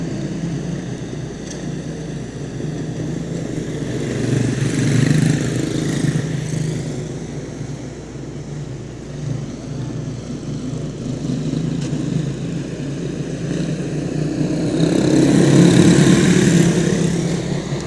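Race cars roaring around Little New Smyrna Speedway under green flag, a continuous loud engine drone that swells and fades as the pack passes, with no one speaking.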